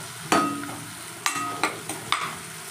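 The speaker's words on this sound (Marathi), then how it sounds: "आता आपण कांदा घालूया. हे बघा कांदा घातला" Onion fries in a pan with cumin, mustard seeds and garlic, a soft sizzle in the background broken by four sharp metallic clinks of a utensil against the pan.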